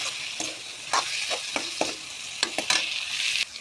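Fried potatoes are tossed with spice masala in a pan, giving a close, bright sizzle punctuated by quick uneven scraping and stirring strokes, with no voices.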